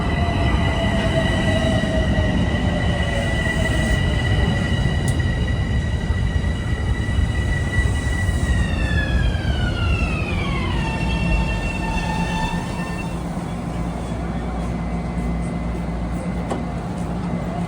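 A Metro-North Harlem Line train at Harlem 125th Street station rumbles loudly and steadily up close, its wheels squealing in long tones that slide downward as it slows, with a continuous heavy roar throughout.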